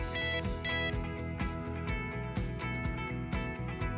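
Alarm sounding on a Compat Ella medical feeding pump, a repeating electronic beeping tone pattern in quick regular bursts, clear and close with no talk.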